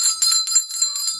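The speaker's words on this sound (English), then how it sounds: "Oh, I got to get the bell." A handheld dinner bell rings for backyard hens at Christmas, several quick bright clangs in a jangling, shaking rhythm, close and loud with ringing overtones and no talk.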